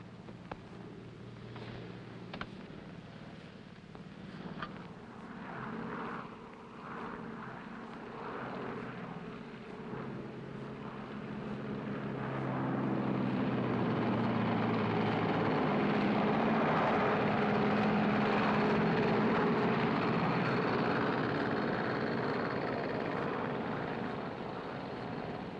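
Propeller airliner engine drone in a 1948 film, building from a low rumble to a loud sustained roar during the second half as the plane taxis and powers up.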